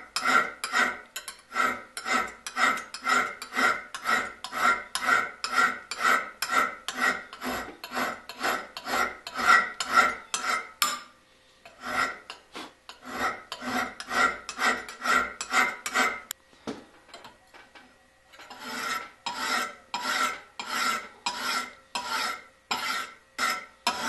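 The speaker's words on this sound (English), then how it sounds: "I'm gonna keep on filing until I feel that burr" A hand file rasps along the edge of a single-bevel broadhead in quick, steady back-and-forth strokes, close and crisp, pausing briefly twice before the rhythmic filing resumes.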